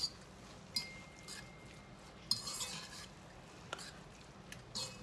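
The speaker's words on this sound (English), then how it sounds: "So I'm gonna go ahead and stir these ingredients together." Spoon stirring chili ingredients in a single pot, quiet scraping with sparse clinks and taps of utensil against metal at irregular intervals, faint and close.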